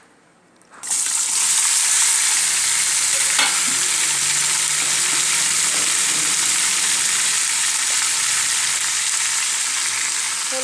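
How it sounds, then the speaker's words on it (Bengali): Meat sizzles loudly in a hot pan, starting abruptly after a brief quiet moment and then holding a steady, dense crackle with occasional scraping stirs throughout. "এখন মাংসটা ভেজে নেব।"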